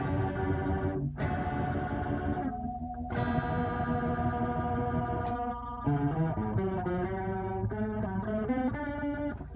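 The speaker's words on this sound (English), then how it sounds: "You hear that rotary effect." Electric guitar played through the rotary effect of a Boss MD-500 modulation pedal, sustained chords and then a run of single notes with a swirling, warbling modulation, loud and continuous with no talking.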